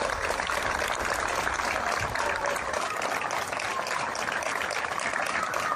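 Steady, dense applause from a crowd at a wake for a Moldovan mafia clan leader as the coffin is carried along a red carpet, sustained and even throughout with no pauses.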